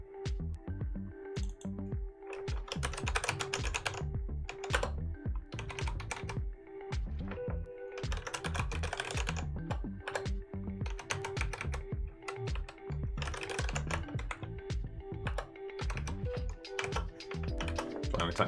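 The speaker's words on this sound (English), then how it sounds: "Sorry, I'm typing something real quick." Close, quick typing on a computer keyboard: bursts of sharp key clicks in uneven runs with brief pauses, continuing steadily for about eighteen seconds alone.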